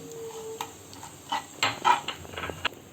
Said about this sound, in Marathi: त्याच्यामध्ये आपण आता मोहरी घालून घेऊ मग जिरं परतवून घ्या आहे